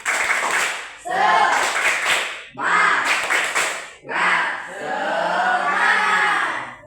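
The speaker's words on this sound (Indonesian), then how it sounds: "Ayo, tepuk semangat." A class of elementary schoolchildren performs a rhythmic spirit clap, several loud bursts of unison clapping alternating with group chanting, then a longer sustained shout of young voices at the end.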